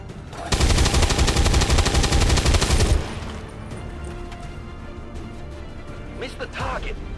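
Rapid automatic gunfire in the video game LA Noire, a dense loud burst of shots lasting over two seconds, followed by quieter game ambience with some scattered clatter.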